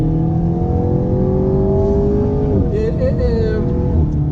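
Alpine A110 sports car, 250 horsepower, on compound tires at a race track, its engine droning steadily and loud with a brief pitch dip and rise near the end, speech faintly over it.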